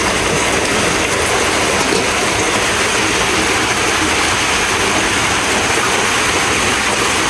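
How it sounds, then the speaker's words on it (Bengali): Heavy morning rain pours down steadily in a downpour, a dense continuous hiss of falling water close by and loud throughout, with no other sounds standing out. "দেখো প্রচুর বৃষ্টি হচ্ছে।"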